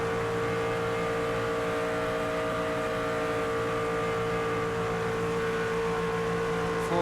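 A NASCAR race car engine held at full throttle in the video game NASCAR 25, a steady, loud, sustained high-pitched drone with no change in pitch throughout.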